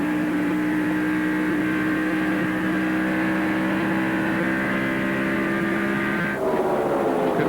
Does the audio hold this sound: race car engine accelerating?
yes